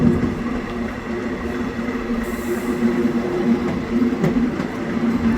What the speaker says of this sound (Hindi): अपनी ट्रेन पहुंचती हुई अम्बाला सिटी रेलवे स्टेशन